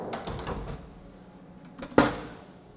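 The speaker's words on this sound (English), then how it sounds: "So you do have to close the doors." The door of a Haas machining center is slid shut in a workshop, with faint rattling and then one sharp clunk as it closes near the end.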